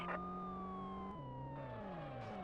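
A video game police siren wails continuously at close range with a steady, loud tone that slowly glides downward, no voices over it, as a pursuit on a target closes in.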